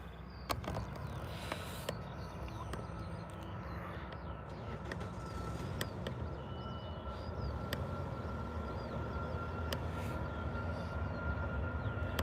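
A Ryanair Boeing 737 at Birmingham airport produces a faint, steady jet roar heard from a distance, holding evenly throughout with a few thin tonal lines and brief clicks on top.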